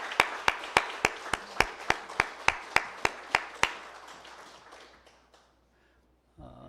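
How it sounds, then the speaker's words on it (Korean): Scattered hand claps from a church congregation during a Sunday service, about a dozen sharp, evenly spaced claps that slow and fade into a quiet room before a faint rustle at the end. "우리 박수하겠습니다"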